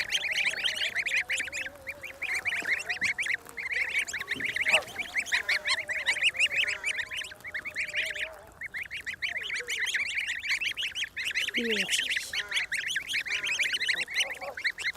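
A flock of geese honks nearby, a dense continuous clamor of overlapping nasal calls, with a few louder individual honks standing out against the crowd.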